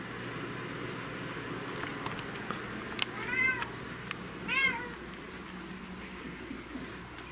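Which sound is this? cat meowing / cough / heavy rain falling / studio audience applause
cat meowing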